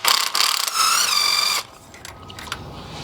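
A power tool loosening spark plugs on a 2.5L 2AR-FE Toyota engine gives a loud, whirring, ratcheting whine in short bursts. It then cuts off to quieter faint clicks.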